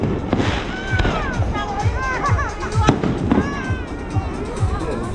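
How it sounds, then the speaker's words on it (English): Fireworks burst at an Eid festival night in New York City, with repeated crackling pops and bangs in quick succession, loud and close, as a crowd murmurs and people talk over them. "Big fireworks."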